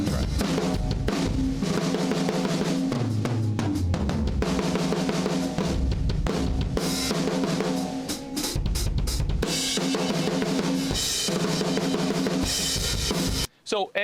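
Full comped drum track playing back continuously at loud, steady level, dense with kicks, snares and cymbals throughout, cutting out abruptly near the end.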